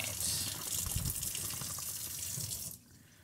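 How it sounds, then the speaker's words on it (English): Tap water running steadily into a sink while a hydration pack water reservoir is rinsed, a close, even splashing hiss that cuts off near the end. "I rinse it until I stop seeing suds"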